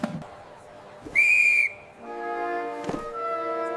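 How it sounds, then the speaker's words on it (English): A single sharp whistle blast from a children's 3D cartoon, short and piercing, rising out of a quiet background of light sound effects and music tones. "I brought class whistles for safe lines."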